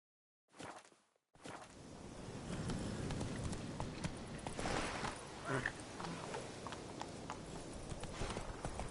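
Hooves of a horse in a PS4 video game clip-clopping at speed, a dense, continuous patter of hoofbeats after a brief swish at the start, with faint background noise throughout.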